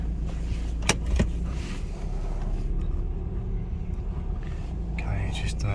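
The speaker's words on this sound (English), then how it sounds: "I've just managed to drive it a bit, and the car just drives really well." A BMW 420d Gran Coupe Sport xDrive with a 2.0-litre diesel rumbles steadily from inside the cabin while being driven, with a couple of sharp clicks early on and quiet speech under the engine noise.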